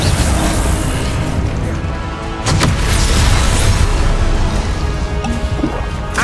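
In the Hogwarts Legacy game, Confringo fire-blast spells go off as heavy booms and crashing impacts, with a loud burst near the midpoint and more blasts over constant battle noise.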